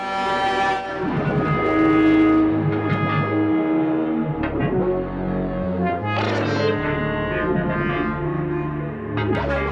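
A thick, droning synthesizer tone slides between pitches, played with a ribbon controller, sustained and loud with wavering, buzzy overtones, sounding like a melody played by sliding a finger.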